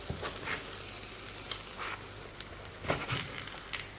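Flaky sugar flatbread pan-frying until golden, a quiet steady sizzle with scattered soft crackles and occasional light taps or presses on the crisp crust, no voices.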